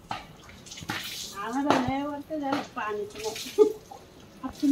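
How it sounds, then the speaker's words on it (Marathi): Clothes washed by hand in collected rainwater, with intermittent splashing and sloshing beneath a person talking close by. "पावसाच्या पाण्यामुळे तुम्ही हे कपडे धुताय"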